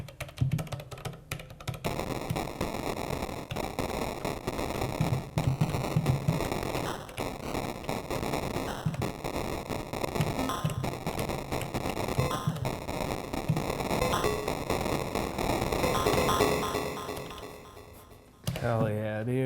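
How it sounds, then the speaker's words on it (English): An Elektron Syntakt synthesizer fires dense 8-bit explosion and gun-style noise bursts in a rapid, crackling, continuous stream for most of the clip, then briefly drops out before resuming. "I've been really interested in these just like 8-bit explosions and gun sounds and stuff."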